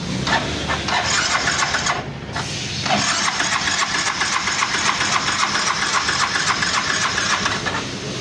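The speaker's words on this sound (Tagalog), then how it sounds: "Andar na itong motor na to." A Yamaha NMAX V1 scooter that has run dry of oil starts up, then settles into a steady, loud idle. The close-up engine drone is broken by a short dip early on, and no one speaks.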